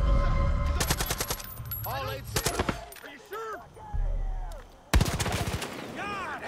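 Rapid automatic gunfire in Far Cry 5, loud close bursts of repeated shots with pauses, a heavy impact near the end, and voices talking in between.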